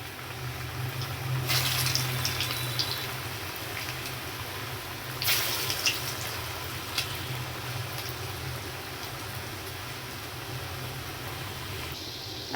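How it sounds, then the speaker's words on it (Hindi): Bottle gourd koftas fry in oil in a kadai over low-medium heat, giving a steady, moderately loud hiss with a couple of brief louder crackling swells. "अभी कोफ्ते सारे डाल करके लो मीडियम के ऊपर इनको फ्राई करना हैगा।"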